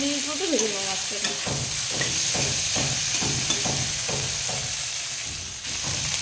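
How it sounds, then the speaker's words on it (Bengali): Pieces of fish fry in mustard oil with a continuous close sizzle, punctuated by repeated scraping strokes of a spatula in the pan; a brief vocal sound opens the clip. "দু মিনিট মতো ভেজে নেবো মাছটাকে।"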